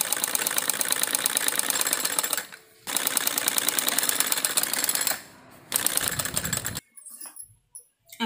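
A sewing machine stitches a salwar for a school uniform in fast rhythmic bursts, running for about two and a half seconds, pausing, running again, then finishing with a few short, slower stitches near the end.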